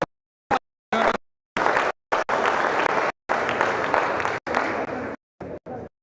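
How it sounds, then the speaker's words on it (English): Spectators in the stands at a padel tournament semifinal clap and cheer in loud bursts that cut off abruptly, leaving gaps of silence between them. "It's about some people in the stands celebrating with points."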